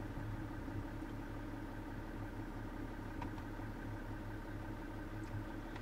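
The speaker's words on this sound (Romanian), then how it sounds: "Am pornit motorul pentru că trebuie să dăm pe partea de climatizare" BMW 730d E65 diesel engine idling, a faint, steady low hum with constant mechanical drone and no changes in pace, heard alone without talk.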